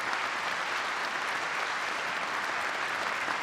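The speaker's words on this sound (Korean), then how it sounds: "여러분 큰 박수 부탁드리겠습니다." A crowd applauds steadily, dense clapping filling the whole moment at an even, moderate volume.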